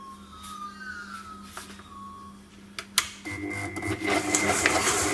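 An electric mixer creams butter and sugar for peanut butter and jelly cookie dough, a steady motor whir that comes in loudly about midway after a few seconds of quieter tones and clatter.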